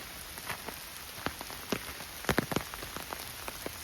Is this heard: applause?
no